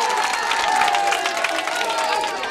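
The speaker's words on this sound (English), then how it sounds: "Round of applause." Crowd applause and cheering at an outdoor street cooking contest for yam dishes in Amukoko, a dense, steady burst of clapping and shouts sustained for a few seconds, fairly loud and close.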